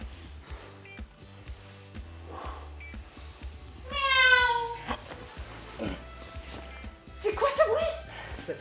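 A cat meows once clearly, then gives a shorter yowling cry a few seconds later, both fairly close over a low hum and soft movement noises.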